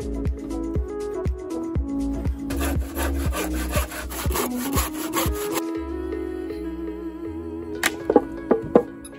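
Wood planks for a raised garden bed are cut with a hand saw, giving a run of steady rhythmic rasping strokes that stop midway, followed by quieter handling knocks and a few sharp taps near the end.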